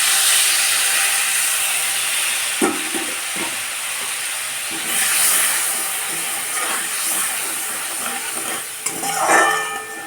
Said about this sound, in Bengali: আর এটাকে কষানোর জন্য আমি একটু জল দিয়ে দিলাম